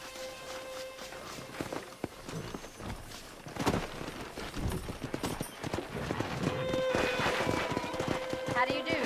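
Horse hooves clip-clop on the ground in the Red Dead Redemption western video game, a steady walking rhythm running throughout alongside game ambience and scattered voices talking.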